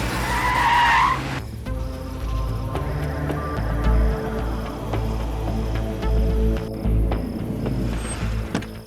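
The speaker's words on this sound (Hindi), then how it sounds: "शायद मास गैंग वालों के घर के पास गाड़ी रुकी है।" A car skids to a stop with a sharp tire squeal at the start, followed by a steady engine hum and low rumbling as the vehicle sits idling, all fairly close and loud.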